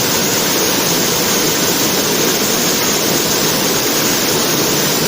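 Batang Taye waterfall in Silokek geopark, Sijunjung, West Sumatra, gives a loud, steady, unbroken roar of falling water heard close up with no voices.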